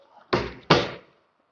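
Two quick, loud thuds a fraction of a second apart as metallic doors on a crockery cabinet swing shut, each with a short fading ring, close by and without talking.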